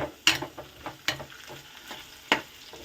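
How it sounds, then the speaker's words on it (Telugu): Potatoes frying in a pan at home, giving a soft continuous sizzle with several sharp scraping stirs of a spatula spaced through it, close and fairly quiet. "వేగుతుంది"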